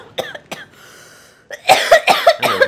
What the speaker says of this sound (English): my coughing alerted him